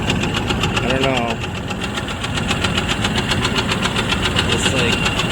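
Car engine idling with a repeated knocking and banging, a steady rapid mechanical beat running loud and close throughout, with a person briefly talking over it.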